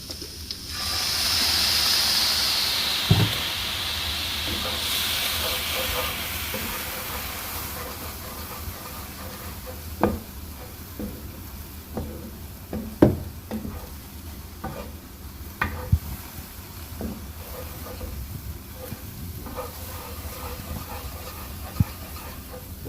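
Cauliflower rice sizzles and hisses in a hot pan. A loud steamy burst comes as a tablespoon of liquid aminos goes in, followed by steady frying with sharp scrapes and clacks of stirring.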